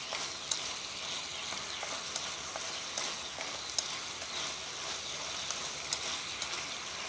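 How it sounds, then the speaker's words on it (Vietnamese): Fresh tofu skin stir-frying in a sweet and sour sauce gives a soft, steady sizzle with a few faint clicks of a utensil against the pan, no voices over it. "các bạn để như thế này ha, cho nó xào cho nó rút hết cái phần nước sốt thấm vô trong này"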